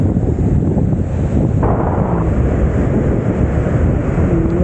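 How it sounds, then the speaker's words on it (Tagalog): Strong sea waves and gusting wind during a typhoon make a loud, steady roar, with wind buffeting the microphone throughout. "Kita nyo ang sobrang lakas ng alon."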